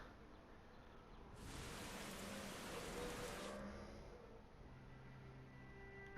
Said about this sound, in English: It's raining over there.